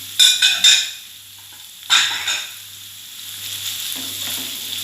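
Chayote pieces, freshly washed, frying in a pan for a home-style stir-fry with salted fish, stirred in a few sharp scraping bursts over a quieter steady sizzle.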